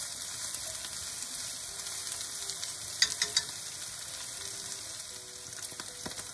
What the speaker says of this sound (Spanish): Ya la salchicha, el tocino y el chorizo pues están bien doraditos